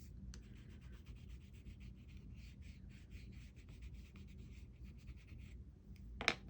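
Neocolor II water-soluble crayon is rubbed onto a stone paper sketchbook in close, soft, scratchy strokes, with a quick sharp tap just before the end.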